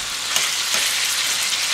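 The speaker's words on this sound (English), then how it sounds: "just fry very quickly the meat" Pork meat frying quickly in a preheated hot pan for a traditional Bulgarian guivech, a steady loud broadband sizzle with faint stirring movements, no voices.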